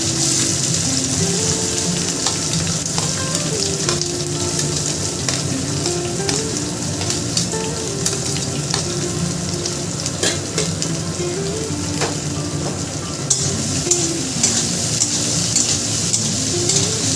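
Chopped onions fry in a pan, crackling and sizzling loudly and continuously up close while a utensil scrapes and stirs in a loose, repeating rhythm throughout.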